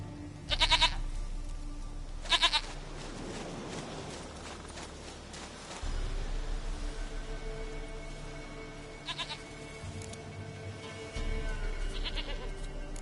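A goat in a video game bleats in short, loud, quavering calls, two close together near the start and more later, set against quiet in-game ambience with low rumbling and intermittent soft thuds.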